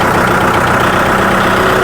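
A diesel tractor engine with power steering runs at a steady idle, a loud, close, even rumble with no change in pace throughout.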